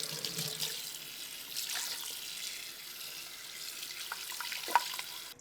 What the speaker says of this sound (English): I just like to fill it up with water just so it's just covering the chicken